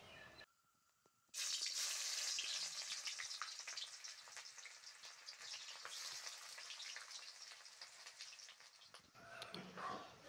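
Sliced onions frying in a pan for a duck meat curry: a loud, steady, close sizzle bursts in after a brief quiet moment and crackles on for several seconds before easing off.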